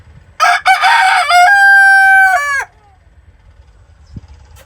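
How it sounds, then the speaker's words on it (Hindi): A rooster crows loudly and close by in a village yard where hens roam, one long drawn-out call that ends sharply, followed by quiet with a faint cluck near the end. "इस साइड पे मुर्गियाँ फिर रही हैं"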